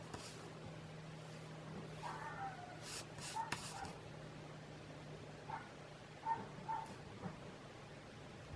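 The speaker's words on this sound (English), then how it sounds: "the next door neighbor dog has all of a sudden discovered my driveway, guys. And, you know, they're being barked at." A neighbour's dog barks in short, distant bursts over a low steady background hum, with quiet gaps between the barks.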